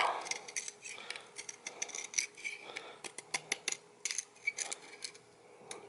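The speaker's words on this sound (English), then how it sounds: "a knife here, and I can actually just start trimming this" A knife shaves and trims wood during a neck reset on a Martin 000-15 acoustic guitar, giving a series of close, crisp scraping strokes in an irregular rhythm with short pauses between cuts.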